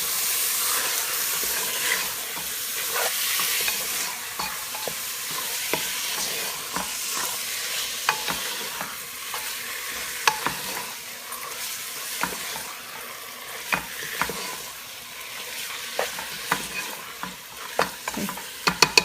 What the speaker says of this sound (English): to this I'm going to throw in my meat, give that a good mix